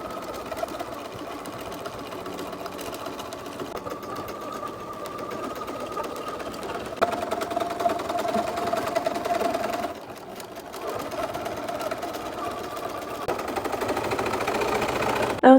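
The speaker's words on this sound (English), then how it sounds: "ready to take it to the sewing machine" A sewing machine stitches twill tape on a doll dress, its needle chattering in a rapid, even buzz with brief pauses and speed changes, moderately close and alone.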